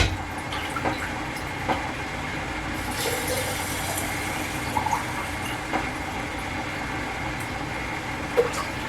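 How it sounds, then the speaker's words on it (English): Water runs steadily into jars for growing wheatgrass, a continuous broadband rush with faint clinks now and then, close and unbroken throughout. "Okay, now we're going to take these jars and we're going to fill them up."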